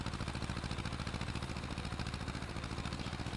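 A poorly soundproofed tractor engine running at a steady, even throb, droning continuously and fairly close throughout.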